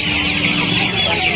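Several chickens cluck and squawk together at a crowded poultry market in Uluberia, Howrah, a dense, continuous flock chatter over a background murmur of people.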